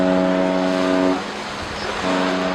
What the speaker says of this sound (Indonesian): Pilot dari kapal tanker ini telah melakukan tugasnya dengan baik dengan membunyikan klakson berulang